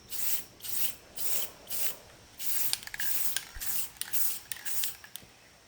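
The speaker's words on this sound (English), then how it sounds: "Time to give this baby a few coats of acrylic sealer." An aerosol can of acrylic sealer is sprayed onto a painted replica animation cel in repeated hissing bursts of about half a second each, close and fairly loud, with small taps and handling noises between passes.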